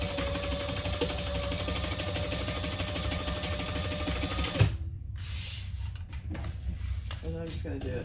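A sewing machine stitches down the sides of a crossbody bag in a steady, continuous whir for several seconds, then stops, leaving quieter handling rustles and light clicks.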